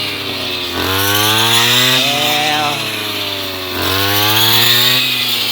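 A loud, steady engine whine from a brush cutter used to harvest sticky rice rises and falls in pitch as it cuts, with a voice speaking briefly over it.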